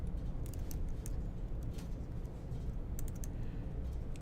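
Terminal commands being typed on a computer keyboard, a few quick clusters of light key clicks over a steady low background hum, fairly faint and close.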